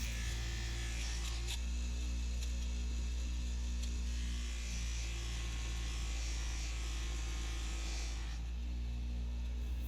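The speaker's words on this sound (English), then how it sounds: "I'm going to take that off first with my polishing wheel." Electric polishing wheel taking the burr off a knife edge: a loud continuous motor hum and buzzing whine throughout, with a faint grinding hiss as the blade meets the wheel, close up and with no talk.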